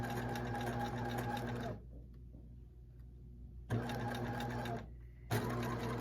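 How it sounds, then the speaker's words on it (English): A sewing machine back tacks a seam, its motor whirring in three loud bursts of stitching separated by brief stops, close up and with no voices. "I'm going to go ahead and back tack 2 just to secure that."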